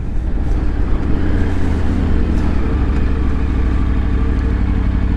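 Triumph Tiger 900 motorcycle in regular road mode without quick shifter, engine running steadily and loud up close, a continuous mid-pitched drone with little change in pitch across the stretch.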